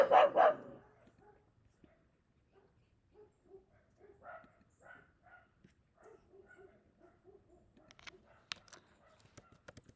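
A dog barks in short, faint bursts spread across the stretch, somewhat distant, with a louder burst at the start and a few sharp clicks near the end.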